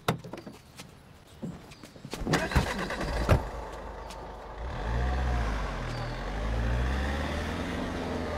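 A car engine idles and revs up in a busy outdoor scene in a Hindi-dubbed film, preceded by sharp clatters and thumps, with a low steady rumble and deep pulsing tones filling the second half.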